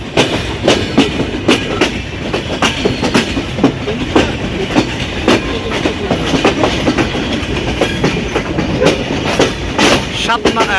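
Banalata Express passenger train rolling into a station platform, with a steady rhythmic clickety-clack of wheels over rail joints and continuous loud carriage rumble throughout, close by.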